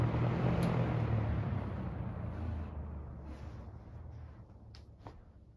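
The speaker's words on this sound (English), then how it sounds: "the spin down is very weird on the S-23" An S-23 electric fan winding down, its broad whooshing hum loud at first and gradually fading over several seconds, with a few faint ticks near the end.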